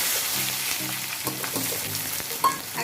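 Chopped onions fry in hot oil with sugar in a kadhai for a restaurant-style mutton curry, giving a steady, close hiss of sizzling with a few brief stirring clinks and no talking.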